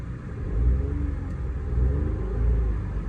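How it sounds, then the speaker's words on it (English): A VW Move Up with a 1.0 engine idles with a low, close rumble that rises in a couple of gentle swells as it is revved. "So let's do the startup sequence. So as you can see, all the lights are off. It's all as it should be. I'll give it a quick rev."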